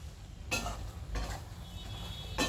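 Spoon stirring drumstick pickle in a pan, three short scraping strokes against the metal spaced about a second apart, close and fairly quiet.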